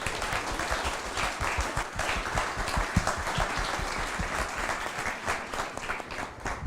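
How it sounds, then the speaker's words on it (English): Audience applause fills a conference hall at the close of a panel discussion in Tallinn, Estonia, a dense, steady clapping that holds at an even level for nearly seven seconds with no voices over it. "please a huge round of applause to everybody"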